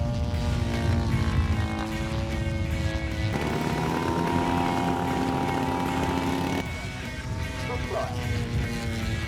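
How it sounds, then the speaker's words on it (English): A radio-controlled model F-14 Tomcat jet, built from an ARTF kit and extensively reworked, makes a flyby with a steady, droning engine whine whose pitch shifts abruptly twice as it passes at moderate distance. "Lovely flyby to the 250. Aircraft is an F-14 Tomcat."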